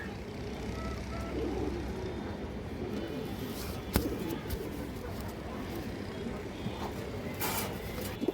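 Pigeons coo in a loft among breeding pairs, a low steady murmur under constant background noise with a faint vehicle hum, broken by one sharp click midway.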